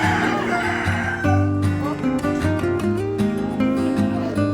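A rooster on a farm crows loudly and close by, one long drawn-out call with strong harmonics, followed by softer clucks and chatter from other fowl.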